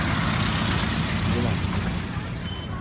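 A route 31 minibus passes a stop with a loud, close engine rumble and road noise that fades slightly at the end, with a brief high whine.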